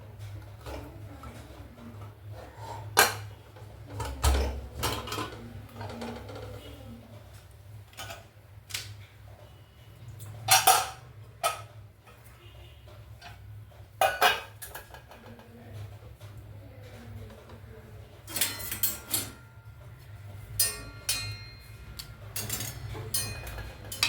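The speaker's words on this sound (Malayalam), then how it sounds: "നമുക്ക് കുക്കർ തുറന്ന് നോക്കാം" Someone handles a pressure cooker to open it, producing scattered sharp metallic clicks and clanks at irregular intervals over a quiet kitchen background, with no speech.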